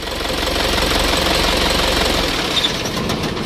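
A car engine with a fault that keeps it from shutting off runs loudly and close, a continuous rough, knocking idle that holds steady throughout.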